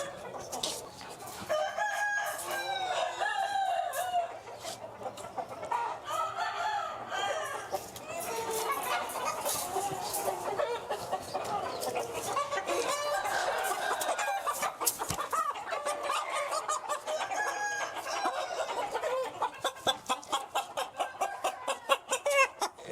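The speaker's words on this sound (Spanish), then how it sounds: "Este gallo es bueno." A gamecock, a giro fighting rooster at a cockfighting pit, crows loudly and repeatedly up close, mixed with clucking and other fowl calls that keep up throughout.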